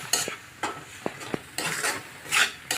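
Spice paste with turmeric and salt being sautéed in a pan for a rohu fish and tomato curry: soft frying sizzle broken by several sharp scrapes and knocks of a spoon stirring against the pan, close by.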